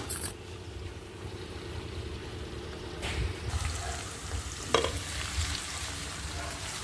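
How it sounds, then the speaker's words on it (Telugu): Broad bean pieces with onion and green chilli are stirred in a sizzling pan, a steady frying hiss with a few louder scraping and clanking stirs. "ఇవి మొత్తం చిక్కుడుకాయ ముక్కల్లో కలిసేలాగా కలిపేసుకోండి"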